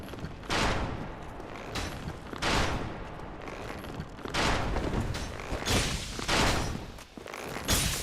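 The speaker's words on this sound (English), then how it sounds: "Somebody has been aggroed and is shooting at me from a different area" An enemy fires at the player in Dark Souls, producing repeated sharp, booming bursts about a second apart over a low rumbling background.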